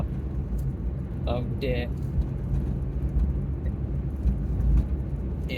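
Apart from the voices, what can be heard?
car driving on bendy roads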